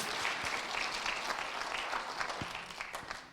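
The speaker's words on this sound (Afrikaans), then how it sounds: "Kom aan, klap vir die Here, kom, gee hom al die eer, al die lof." A church congregation claps together at a worship service, a sustained dense applause carrying on evenly throughout at moderate distance.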